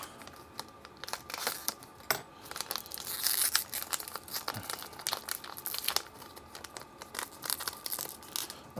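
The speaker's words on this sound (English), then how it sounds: "I'll just get one out of the bag here." A plastic bag crinkles and rustles in close, irregular bursts as a small 5 volt buck converter is pulled out of it.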